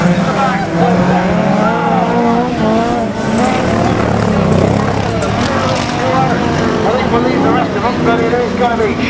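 Class 3 autocross race cars at the UKAC Cambridge round roar and slide through a corner, engines droning loudly and continuously beneath excited commentary.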